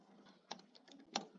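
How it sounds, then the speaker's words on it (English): A few faint, scattered clicks of keys on a computer keyboard, soft and sparse, with quiet gaps between the taps. "Sorry, I'm just typing there."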